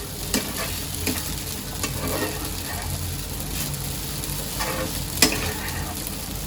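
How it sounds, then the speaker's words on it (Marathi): Sabudana khichdi is stirred and sautéed in a pan with a steady soft sizzle, broken by intermittent scraping strokes of a spoon against the pan, close up and with no talking. "साबुदाण्याला मी पाच ते सात मिनिटापर्यंत चांगलं परतून घेते"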